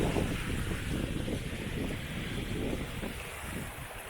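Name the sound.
river water flowing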